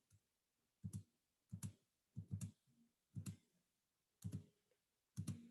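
A computer mouse clicks about eight times at fairly even, unhurried intervals, each a short, soft, close tap in an otherwise quiet room.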